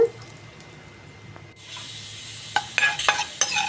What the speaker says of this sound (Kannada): ಇಂಗು ಹಾಕಿ ಫ್ರೈ ಮಾಡ್ಕೊಳ್ಳೋಣ.